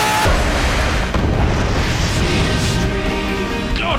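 A smart bomb detonates in the space shooter Clear Skies 3, a loud, sustained boom and rumbling blast that fills the whole stretch without letup.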